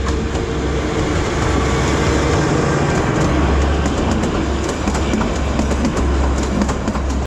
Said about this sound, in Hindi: आ रही है कालका शिमला हिम दर्शन एक्सप्रेस।